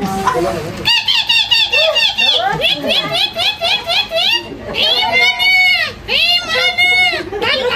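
Children imitate a parrot's call with a run of rapid, high squeaky chirps and whistles, repeated in quick bursts, up close and loud, mixed with children's voices.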